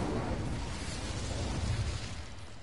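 Incendio fire spell blast in Hogwarts Legacy, a broad rumbling burst of flame with a low roar that holds steadily and fades slightly at the end.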